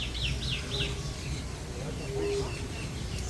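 Birds at Disney's Animal Kingdom chirp in quick repeated sweeping calls over a low murmur of ambient noise, with several voices scattered through the clip.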